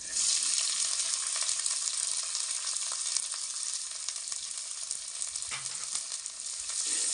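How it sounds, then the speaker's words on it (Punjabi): Garlic and onions fry in a pan on a homemade stove for a milk gravy curry, giving a loud steady hiss and sizzle from start to finish with faint stirring scrapes and no talk. "ਪਿਆਜ਼ਾਂ ਨੂੰ ਵੀ ਆਪਾਂ ਹਲਕਾ ਬਰਾਊਨ ਹੁੰਦੇ ਤੱਕ ਪਕਾਵਾਂਗੇ"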